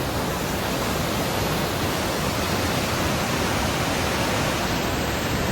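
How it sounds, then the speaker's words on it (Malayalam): Heavy rain pours down at Vishnumangalam Dam, a dense, steady roar of broadband noise that stays loud and unbroken throughout, with no voices. "അതിശക്തമായ മഴയുണ്ട്"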